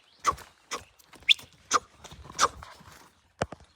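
A horse walks with hooves striking the ground in a run of about eight soft, irregular thuds, fairly quiet and close, with near silence between steps.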